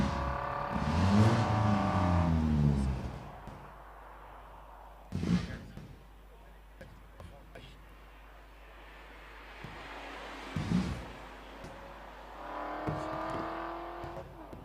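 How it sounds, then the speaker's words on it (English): Competition cars climbing a hill-climb course at the Caramulo Motorfestival: engines rev and surge past in loud bursts, then fade, with quieter stretches between runs and distant ambience. "The cars are continuing to go up the hill as it's going to happen today until the end of the event."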